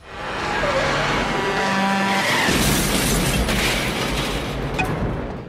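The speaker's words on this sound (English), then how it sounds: "It's a head-on collision with another truck that finally dispenses him." A truck's head-on collision in a Nightmare on Elm Street horror film, with engine roar and squealing tires building up to a loud crash and shattering, fading into debris and rumble.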